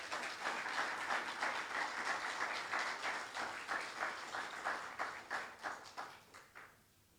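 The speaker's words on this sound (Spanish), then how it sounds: "Y por favor, recíbalo con un fuerte aplauso," A church congregation applauds to welcome Pastor Fleming Tejada, a dense, steady wash of clapping from a large crowd that holds for several seconds and then fades away, with no voices over it.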